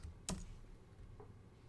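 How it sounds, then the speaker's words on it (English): A few keystrokes on a computer keyboard, one sharp near click followed by a fainter tap a second later, over a quiet room hum. "what I was able to do is just type in the word jazz"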